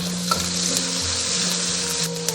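Scallion, ginger, garlic and dried shiitake mushrooms are stir-fried in a hot wok in oil rendered from pork belly. A loud, steady sizzle plays alone over a droning hum, with occasional scrapes and clicks of stirring.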